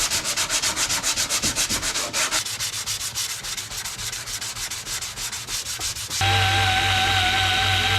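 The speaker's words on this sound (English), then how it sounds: "I just got done stripping the roof and stripping the majority of the hood" Paint being sanded off the body panels of a seventh-generation Honda Civic, with loud, rhythmic back-and-forth rasping strokes that shift into a steadier, smoother tone near the end. No one speaks.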